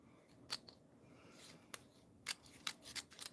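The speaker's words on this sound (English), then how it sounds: "Cut the paper pretty sweet." A handmade knife blade slices through paper in a series of crisp, sharp cutting snips, several short strokes spaced irregularly and heard close up with no talking.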